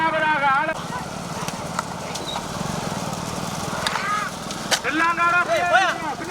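Bulls' hooves pound during a bullock cart race, a steady clattering under loud crowd noise and an announcer's voice, with shouts and whistles rising near the end.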